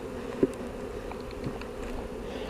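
A close, steady drone of honey bees swarming at a hive being split, continuous and even, with one brief knock near the start and no voices.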